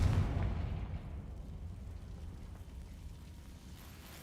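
A Confringo spell blast in Hogwarts Legacy erupts with a deep, rumbling boom at the start, then rolls off into a long fading low roar.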